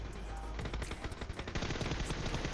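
Rapid gunfire from the video game PUBG rattles in dense bursts of repeated shots, loud and continuous over a busy background with little or no talk.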